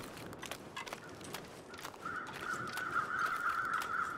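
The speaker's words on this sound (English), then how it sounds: "I wonder if the crows are flying through the rock." Crows caw in a snowy wilderness in the survival video game The Long Dark, their calls repeating faintly at a distance over steady wind-like ambience, growing a bit louder toward the end.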